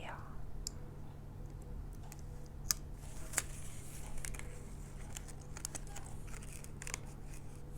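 Scissors cutting out a circle from a sheet, irregular crisp snips and clicks scattered over a steady low hum, close and faint, with no speech.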